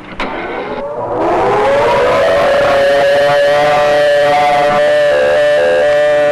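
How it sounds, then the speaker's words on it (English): A civil defense tornado warning siren winds up from a brief start into a loud, sustained wail that holds steady and close for several seconds, drowning everything else. "We think the Siren should be activated at the present time."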